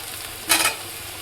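Fried soybeans tipped into a pan of sizzling spice masala, a sudden burst of loud hissing that swells for a moment and then settles back to a quiet sizzle, close by and without talk.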